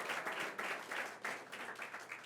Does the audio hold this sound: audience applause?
yes